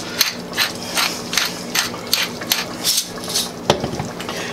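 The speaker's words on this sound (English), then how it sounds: "I'm gonna grab some pepper and just kind of grind a little bit of the pepper in there." Black pepper ground with a hand pepper grinder while cooking meatballs in marinara: a rhythmic series of short, crunchy grinding bursts about twice a second, close and fairly loud, with no one talking.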